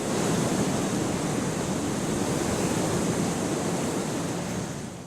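Wind in the video game Kholat roars as a steady, loud, broad rush of blowing air, continuous and unbroken throughout with no voices over it.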